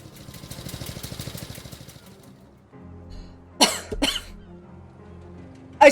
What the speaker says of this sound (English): I swear my coughs are not for dramatic effect.